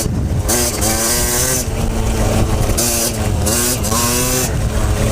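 A 50cc enduro motorcycle engine roars up close on a trail ride, its pitch rising and falling as it revs and shifts, loud and continuous.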